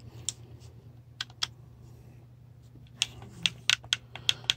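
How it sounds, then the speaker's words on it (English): Crisp clicks from the D-pad of an Xbox Series X controller, a scatter of sharp separate presses, a few early then a quicker cluster toward the end, close and fairly quiet over a low steady room hum. "Very clicky D-pad."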